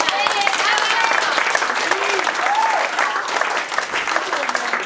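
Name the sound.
applause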